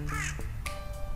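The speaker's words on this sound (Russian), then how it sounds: "Вороны." Crows cawing outdoors, a few harsh calls in quick succession, fairly close and clear over a steady background hum.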